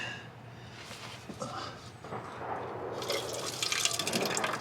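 Water runs out of an engine's drain plug opening into a red plastic cup, a close, steady trickle and splatter that grows louder and fuller as the flow builds.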